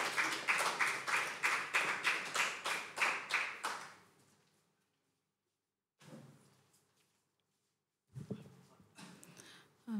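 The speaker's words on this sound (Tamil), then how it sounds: "கைத்தட்டி ரிசீவ் பண்ணுங்க" A church congregation claps along in worship, with rhythmic, evenly spaced claps that fade after about four seconds, followed by silence, a brief burst of distant noise and then more scattered sounds.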